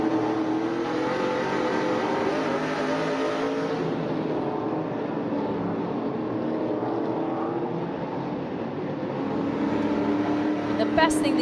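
Stock cars race at Knoxville Raceway, a dense, continuous engine roar from the pack rising and falling as the cars run through the corners.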